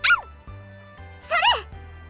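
Two dogs in the visual novel Fureraba give short, high yips and bark-like calls, one near the start and another about a second later, over a low, steady music background.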